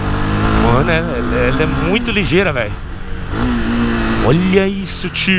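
A new motorcycle's engine revs repeatedly on a first ride, with rising and falling pitch sweeps, loud and close, while someone talks briefly over it.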